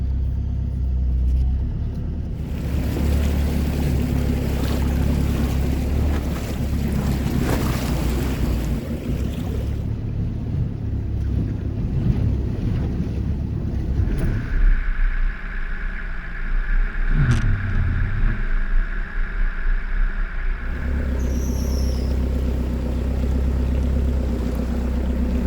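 A 4WD vehicle idles slowly across the Wenlock River in remote Cape York, with a steady loud low rumble, water sloshing and wind buffeting the microphone throughout.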